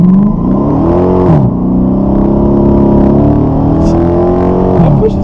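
Dodge Charger R/T with mid-muffler and resonator accelerating hard in first gear, its loud, close exhaust rising steadily in pitch, dipping briefly at a shift point and climbing again, with no talking.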